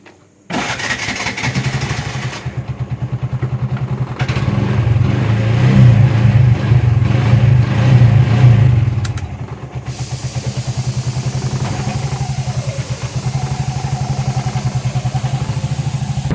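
A motorcycle engine idles and revs up close, its steady low throb rising to a heavier roar midway, then settling back into a running drone as the bike is brought out and ridden off.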